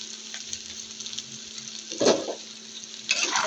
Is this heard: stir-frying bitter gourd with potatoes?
yes